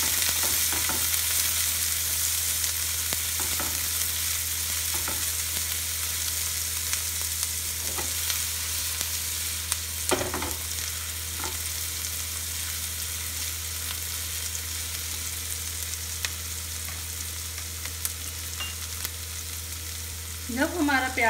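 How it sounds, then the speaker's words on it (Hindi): Onions frying and being stirred in hot ghee with toasted cumin for a mixed dal tadka, a steady close sizzle with occasional scraping stir strokes and a brief louder clatter near the end. "अब हम इसमें प्याज डाल देंगे और इसको अच्छे से घी में हिला लेंगे।"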